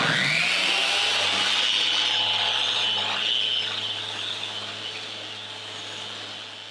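Wood for a sewing-room shelf is sanded with 220-grit sandpaper, making a continuous, bright, close abrasive hiss that gradually fades toward the end.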